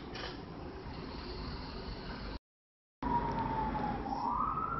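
A police or ambulance siren wails steadily in the distance, faint and continuous behind road noise, cutting out briefly and returning with a rising tone.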